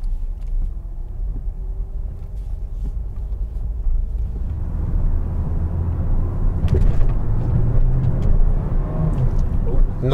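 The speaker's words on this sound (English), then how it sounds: "So why is the car making all that noise when you're changing gears?" A learner's car during a driving test, its engine droning and rising as gears change, with a low rumble and road noise under intermittent talk from people in the car.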